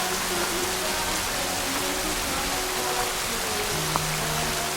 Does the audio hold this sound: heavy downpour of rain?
yes